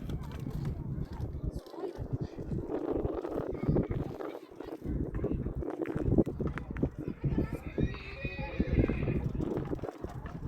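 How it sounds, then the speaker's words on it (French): A horse on the road between Amman and Madaba in Jordan whinnies and its hooves clop unevenly amid wind buffeting and someone talking. "Un cheval."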